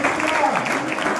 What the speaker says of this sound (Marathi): सगळं टाळी बजाव